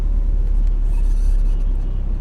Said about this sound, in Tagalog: Traffic lang dito sa NLEX